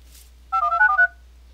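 Telephone call dialing into an IVR server, heard as a quick run of about six clear electronic tones with brief gaps over faint line hum.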